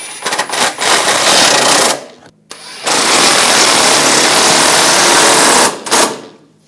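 Power tool buzzing in two loud bursts, with a brief gap between them, as it snugs down the front bumper bolts on a 2014-2018 GMC Sierra.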